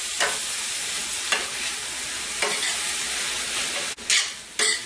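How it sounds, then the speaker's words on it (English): Peppers and thyme stewing in a pot hiss and sizzle steadily while a spoon stirs them, with a few sharp scrapes against the pot near the end. "that's going to stew down there now. Give that a little mix."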